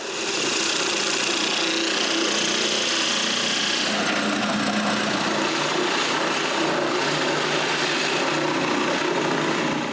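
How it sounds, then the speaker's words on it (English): A power drill whirs steadily and continuously, close by, drilling hinge holes in wood, with a slight change in pitch partway through. "I mark where I need to drill the hinges holes and drill them"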